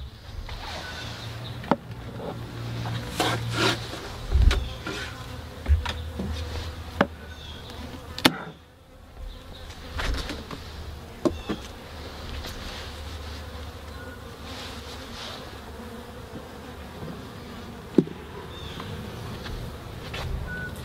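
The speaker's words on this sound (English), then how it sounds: "the bees that we do have here are still working really hard" Honeybees buzz continuously in a close, steady hum around a queenless hive, with occasional sharp knocks and clicks breaking through.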